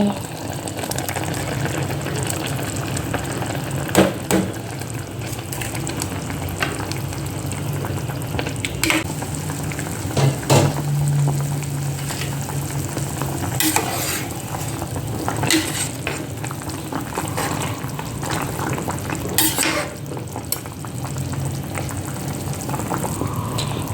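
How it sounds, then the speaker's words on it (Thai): Thai clear soup of bitter melon stuffed with pork bubbling in a pot after mushrooms go in, a steady loud sizzling boil with occasional stirring knocks throughout. "เตือดแล้วค่ะทุกคน ใส่เห็ดลงไป"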